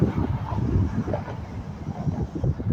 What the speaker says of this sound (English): It's an Amtrak going by.